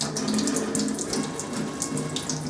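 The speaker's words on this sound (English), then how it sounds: "Turn the water pressure on a little bit more." Tap water running into a sink while a paint brush is rinsed clean of soap, a steady close splashing flow with no one speaking.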